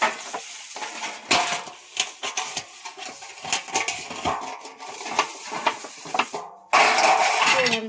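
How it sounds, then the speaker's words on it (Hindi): Pots and dishes being washed, with irregular metallic clanks, scrapes and clinks of utensils knocking together up close, followed by a burst of running water near the end. "मम्मी के बर्तन बन गए हैं, अभी धुलेंगी।"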